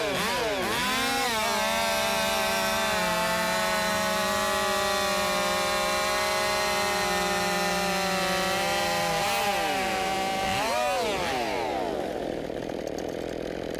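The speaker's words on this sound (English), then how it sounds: "2 very fast saws." Two fast chainsaws rev and bite through logs in a timed Rancher-class horizontal cutting race, a loud sustained snarl with pitch dips as the chains load up in the wood, then a rising rev and wind-down near the end.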